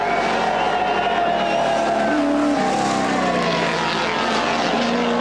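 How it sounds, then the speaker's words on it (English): Peter Brock's race car on its final lap, a loud, continuous engine drone with shifting pitch as it revs through the corners, heard steadily from start to finish. "Peter Brock is trying hard in this last lap."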